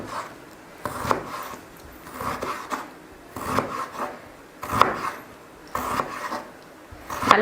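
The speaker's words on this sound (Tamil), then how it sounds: "நல்லா மெலிசாக கட் பண்ணிக்கோங்க." Potato is sliced thinly on a kitchen slicer for pakoda, with repeated rasping strokes about once a second, each a short scraping swipe, close up and without talk.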